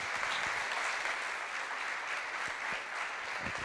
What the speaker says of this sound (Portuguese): eu peço um aplauso para ele